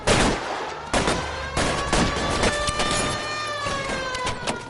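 Sharp gunshots ring out in the video game LA Noire, spaced irregularly across the clip and each followed by a lingering tonal ring, with no talking.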